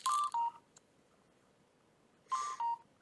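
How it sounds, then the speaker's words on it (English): A phone rings with short beeping tone bursts, each pair of tones repeating about two seconds later, fairly faint and heard without talk. "Why is my phone ringing?"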